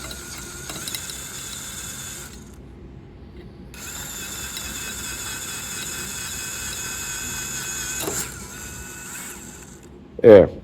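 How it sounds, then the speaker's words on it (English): Continuous whine of a drill boring through metal for a rivnut, lubricated with WD-40, steady and close, pausing briefly and resuming, ending with a sharp knock as it punches through. "I'm going to run the drill for a minute to clear out any chips."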